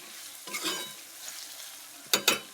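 Cauliflower pieces frying in hot oil, a soft continuous sizzle with a short stir early on and two sharp scraping clanks of a spoon against the pan near the end.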